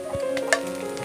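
Pieces of sea tangra fish frying in a pan, a brief close sizzle with a sharp spatter near the middle, no voices.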